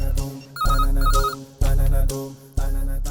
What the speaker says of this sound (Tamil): என்ன பண்றதுன்னு தெரியாம கமிஷனர் பாலச்சந்தருக்கு ஃபோன் போட்டேன்.